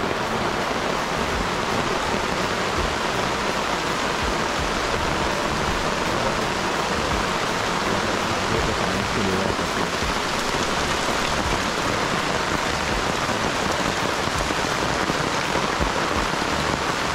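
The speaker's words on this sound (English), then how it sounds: "Rain a pour out there, man. It's a pour." Heavy rain pours down steadily, a dense unbroken hiss of drops hitting surfaces, loud and close with no pauses.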